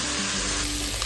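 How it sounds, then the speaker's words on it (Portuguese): Flat iron beef frying in a pan with olive oil, giving a steady, close sizzle with crackling spatter throughout, and no voices over it. "A carne está fritando"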